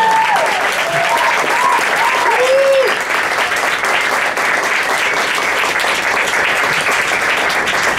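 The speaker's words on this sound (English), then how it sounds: "You guys, you can clap for that." Loud, sustained audience clapping in an indoor venue, steady and dense from start to finish, with a few whoops and cheers rising over it during the first seconds.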